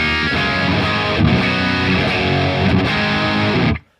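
Electric guitar played through the PolyChrome DSP compressor with gain engaged, giving a sustained, smoothed, overdriven lead tone of dense ringing chords that plays continuously for almost four seconds, loud and alone, then cuts off abruptly.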